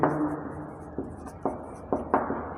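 Marker or chalk writing on a board during an accounting lecture on fund flow analysis, a few short distinct strokes and taps heard clearly against a quiet room hum.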